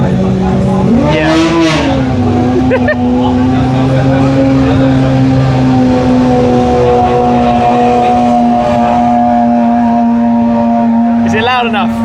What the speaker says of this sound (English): Moira R Evo Roadster, track toy, and just listen to it from here